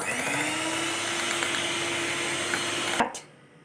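An electric beater whirs through cake batter made with sunflower oil, a steady close motor drone with a faintly rising pitch. It cuts off abruptly near the end, leaving quiet.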